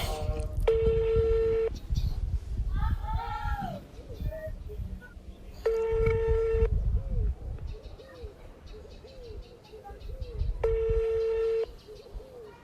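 Touch-tone dialing beeps sound in three long steady bursts while a call is placed, with soft cooing birds and low background murmur between the tones.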